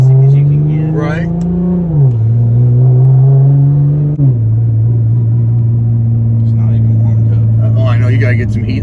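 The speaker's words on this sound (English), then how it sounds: "You hear the little turbos." A boosted 600 HP Nissan GT-R with twin turbos, heard from inside during a ride-along, drones loudly as it pulls hard through the gears, its tone climbing and dropping at each shift.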